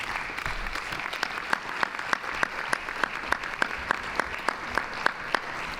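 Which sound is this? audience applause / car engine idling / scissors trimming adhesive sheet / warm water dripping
audience applause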